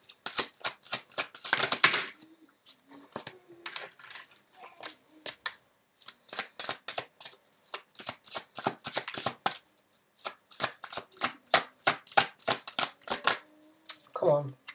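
Tarot cards being shuffled and laid down in quick, crisp riffling bursts and snaps, close and steady over about fifteen seconds, with brief pauses between runs.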